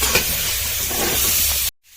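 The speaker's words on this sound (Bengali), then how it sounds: "নুন, হলুদ আর একটু লঙ্কার গুঁড়ো দিয়ে আলুটা ভেজে নেব" Potatoes fry in a pan with salt, turmeric and chili powder, giving a steady close sizzle for almost two seconds before it abruptly cuts to silence.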